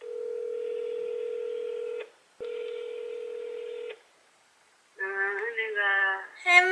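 A telephone dial tone sounds in two steady stretches, then after a short silence a run of touch-tone keypad beeps dials an overseas call, close and clear.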